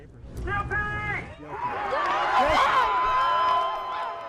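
Crowd gathered outside a courthouse celebrating a guilty verdict, a broad roar of cheers and whoops rising and holding, with a news anchor's voice speaking over the start.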